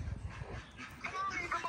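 A Great Dane approaches a fence, giving short whimpers and yips amid close speech.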